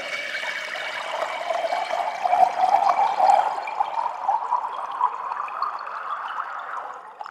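Computer-simulated running water, a smooth continuous bubbling pour with a slight swell in the middle, heard alone and fairly close.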